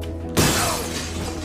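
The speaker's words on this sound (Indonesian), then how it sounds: "dia mendengar suara kaca pecah" Glass shatters in one sudden loud crash, followed by a bright ringing spray of falling shards that fades slowly.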